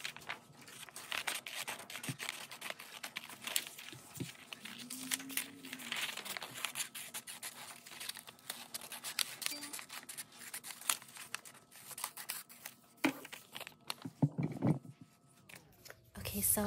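Scissors snip and crinkle through a paper picture, cutting out a smiling face, with soft rustling and intermittent crunchy cuts close by while someone talks over most of it.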